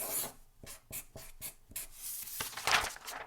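Pen writing an autograph on a piece of paper, a series of quick close scratching strokes in irregular bursts, with no talk.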